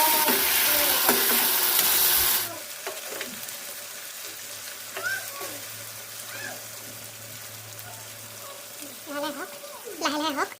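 Hilsa fish fries in hot oil with black cumin, giving a loud, steady sizzle for about two seconds before it drops to a quieter crackle and occasional stirring clatter, with a person talking in between.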